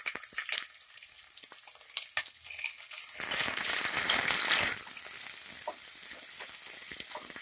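Sliced onions frying in oil in a pan for chicken biryani give an irregular crackling sizzle with scattered clinks and stirring, swelling into a louder hiss before settling to a steady faint fizz.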